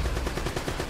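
An Uzi in the video game Uncharted: Drake's Fortune fires a rapid, continuous automatic burst, loud and close.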